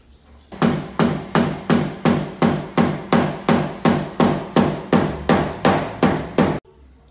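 A hammer taps steadily on a car door's sheet metal during paintless dent repair, about fifteen evenly spaced, sharp close-up strikes in a regular rhythm.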